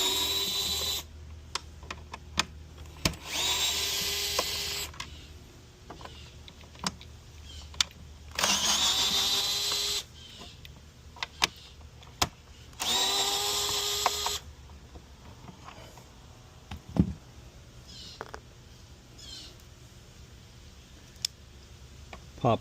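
A cordless power drill whirs in several short, loud bursts of one to two seconds, with rising and falling motor pitch, as screws come out of a Dolphin robotic pool cleaner, separated by clicks and handling noises.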